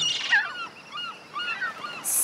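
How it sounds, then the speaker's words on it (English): Seagulls cry out on a beach where baby sea turtles are hatching, giving a string of several harsh, nasal calls that sound close and fairly loud, with no talking. "Seagulls are predators of baby sea turtles."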